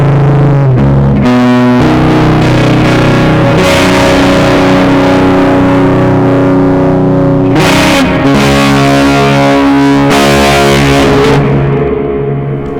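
Electric guitar played through an Orange Micro Dark Terror 20-watt mini head with heavy reverb, distorted sustained chords ringing out loud and continuous.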